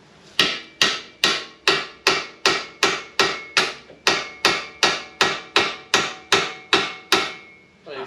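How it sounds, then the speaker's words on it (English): Steady, evenly spaced hammer blows on metal, about sixteen sharp ringing strikes in a row, loud and close with no talking. "use it with a bigger hammer"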